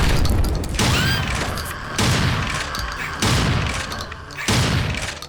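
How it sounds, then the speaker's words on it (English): Boomstick double-barrel shotgun fired in a video game: five loud, booming blasts spaced roughly a second apart, each with a sharp crack and a rolling low-end tail, plus faint mechanical clicks between shots. "Man, the Boomstick is satisfying to fire."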